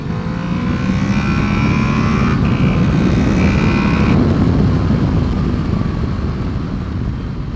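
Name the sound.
Honda VFR800 motorcycle engine as VTEC kicks in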